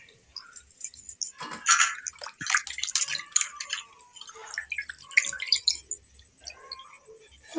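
Raw chicken pieces being rinsed by hand in water, with irregular splashing and dripping bursts close by, some louder sloshes between quieter trickles, no talking.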